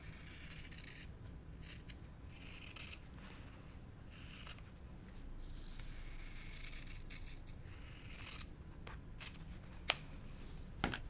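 Scissors snip fabric for a cross-stitch basket gusset, with faint, close crisp cuts and soft rustling repeating irregularly over a quiet background.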